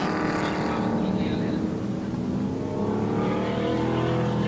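Touring cars race in the ANZ Touring Car Championship final at Bay Park in 1985, among them a BMW 635 and a 5.7 litre Ford Falcon, their engines roaring continuously with shifting pitch while a commentator talks over them.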